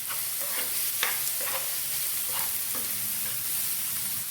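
A masala of salt, turmeric and garam masala for an okra stir-fry is stirred in a hot pan, with a constant sizzle and scattered spoon scrapes and taps, close by.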